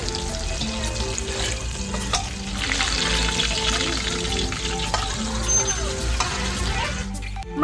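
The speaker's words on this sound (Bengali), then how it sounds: "মাছ খুব সুন্দর করে ভাজা হয়ে গেছে" Rui fish pieces fry in hot oil in a wok with a steady, dense sizzle and crackle throughout, close and fairly loud, with occasional utensil scrapes and a sharp clatter at the very end.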